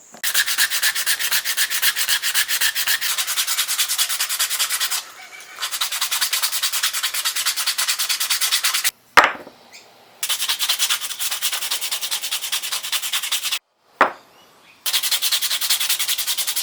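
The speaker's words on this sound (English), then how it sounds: "now it's just time to sand them all back by hand now and get them all smooth" Wooden fishing lures are sanded smooth by hand, giving long runs of rapid, loud rasping strokes broken by several short pauses and a couple of knocks.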